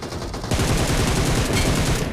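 Rapid automatic gunfire rattles in the mobile battle-royale game BGMI during a headshot knockout, a dense, loud burst of shots that starts abruptly and continues to the end.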